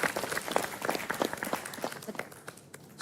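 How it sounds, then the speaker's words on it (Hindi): Applause for contestants on a sports reality competition show, a dense burst of group clapping that slowly thins out, with some voices mixed in. "सबके लिए दिल से तालियां भाई, सबके लिए भाई।"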